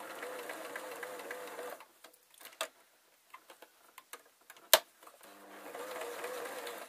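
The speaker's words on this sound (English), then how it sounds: "so I'm going to reverse over it and then sew again." A sewing machine stitching over elastic at a hem: steady whirring runs at the start and end, with a pause of clicks and ticks in between while the fabric is reversed, close and alone.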